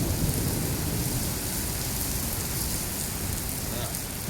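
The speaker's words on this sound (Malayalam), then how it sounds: "നല്ല മഴയാണ് ഗൈസ്." Heavy rain in Slovenia during a thunderstorm keeps up a dense, unbroken hiss and patter of drops on surfaces close by, steady and fairly loud.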